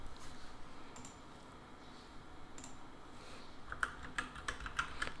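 Quiet typing on a new computer keyboard, light scattered key clicks with a few sharper taps near the end over a low background hiss.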